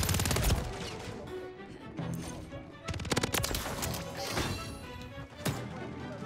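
Bursts of gunfire in the video game Call of Duty: Modern Warfare 3, irregular clusters of sharp shots and impacts, some close and loud, others further off, over a continuous game soundscape.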